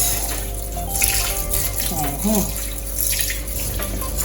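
Rice is washed by hand in water for a Jamaican-style dish, with swishing, gurgling splashes and running water close by, swelling in a few bursts and continuing for a few seconds.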